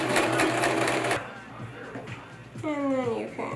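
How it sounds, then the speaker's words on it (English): A sewing machine runs loud and close as it stitches through a cloth mask, then stops, and a person speaks briefly over faint background noise. "Put my foot down. Sew right on through it."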